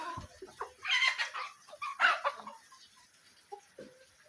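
Chickens and a rooster feed outdoors on scattered food, giving soft clucks and short calls close by over a quiet background, with scratching and pecking noises between the calls.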